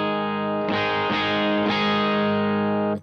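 An electric guitar plays clean, sustained chords with an even, compressed level, three strums ringing out smoothly before stopping.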